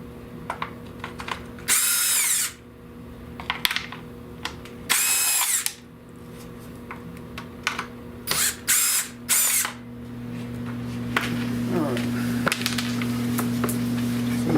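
A power drill backs screws out of a heater blower actuator on a 1970 Buick Wildcat. It sounds in several short, loud, high-pitched whirring bursts with pauses between them over a low steady hum.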